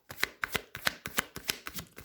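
Tarot cards are shuffled close up in quick, rhythmic riffles, about eight soft crisp bursts in two seconds.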